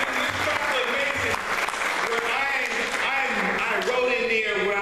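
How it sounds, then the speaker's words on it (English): A gala audience applauds steadily throughout at a scholarship event for a counseling services organization, while a voice talks and music plays underneath the clapping. "So we have to give a round of applause to Dr."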